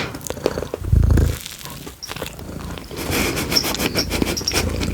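A contented cat purrs close by, a low rumbling burst around the first second followed by softer rustling and handling noises.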